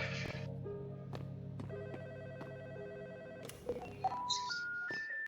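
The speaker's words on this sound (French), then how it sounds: "Il y a un téléphone qui sonne." A game telephone in Roblox's backrooms rings with repeated electronic tones, ending in a brief rising series of beeps.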